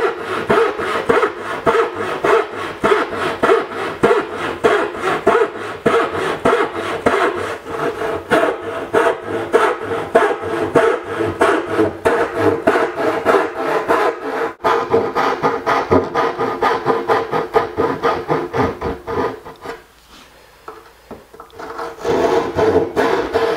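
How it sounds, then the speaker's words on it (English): Hand saw cutting notches in wood, fast back-and-forth rasping strokes in a steady close rhythm for about twenty seconds, pausing briefly before sawing resumes. "So all we got to do now is just saw out a few notches."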